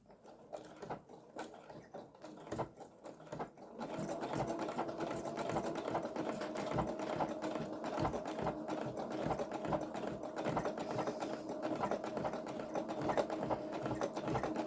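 A sewing machine stitches a journal cover in a steady fast whirring run after a few quieter start-stop bursts, close and continuous.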